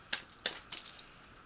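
Tarot cards are shuffled by hand in a few quick crisp riffles, close and quiet, each burst brief and separated by short pauses.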